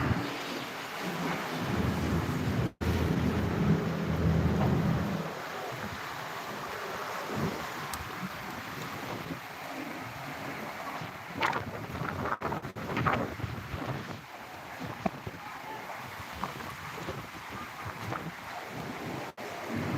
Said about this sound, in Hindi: लाहौर का बारिश का मौसम इस वक्त बहुत हैवी बारिश का मौसम हो चुका है।